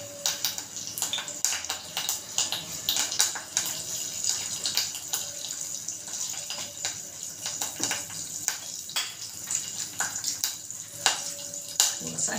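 Cumin seeds sizzling in hot oil in a home kitchen pan, a close crackling hiss with rapid irregular pops and spits throughout, and a voice speaking now and then over it.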